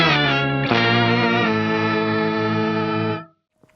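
A sustained electric guitar chord through an octave pedal set to both +1 and +2 octaves, with a thick, shimmering, layered tone, restruck once early on, rings steadily before stopping abruptly.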